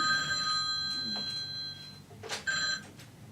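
A telephone rings with a bright electronic trill in two bursts separated by a short pause, loud and close.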